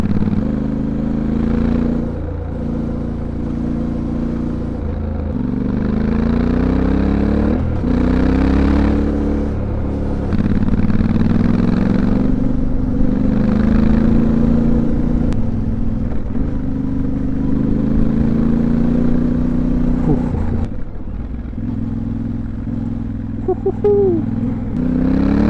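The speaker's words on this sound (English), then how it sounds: "How do you like the engine note?" A Yamaha Tenere 700 adventure motorcycle engine drones steadily while riding on mountain trail routes in Greece, its pitch rising and falling with gear changes and throttle, loud and close with wind noise.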